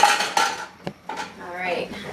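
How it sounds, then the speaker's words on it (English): A plate taken out of a kitchen cupboard, with several close ceramic clinks and clatters as dishes knock together, followed by softer handling and shuffling sounds. "Let me grab a plate out of here."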